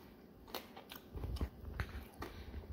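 Crunchy double smoked bacon is bitten and chewed up close, a few crisp crackling bites followed by soft mastication noises, fairly quiet and with no talking.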